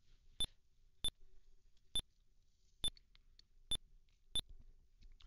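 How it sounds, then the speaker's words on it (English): Match timer in the 1990 ZX Spectrum 48k game The Manager: seven sharp, short beeps spaced roughly evenly about a second apart, clear and alone over near silence. "at least the timer makes a slight noise"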